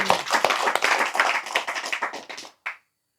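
An audience claps at a live Islamic study gathering. A dense, lively patter of hands fills the room, thins and stops abruptly, then a single late clap follows after a brief silence.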